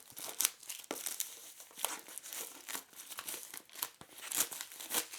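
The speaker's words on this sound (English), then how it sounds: "making a small incision in the shrink wrap and then peeling it off" Shrink wrap being cut and peeled off a power bank box, with close, continuous crinkling and crackling plastic and a few sharper tearing bursts.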